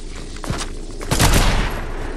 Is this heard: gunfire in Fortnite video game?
yes